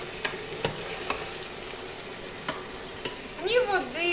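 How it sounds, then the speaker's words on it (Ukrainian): Fresh pork cooks in its rendered fat in a pan under a low, steady sizzle, punctuated by several crisp spatula taps and scrapes, followed by a brief high warbling squeak near the end. "тут треба на цьому моменті помішати"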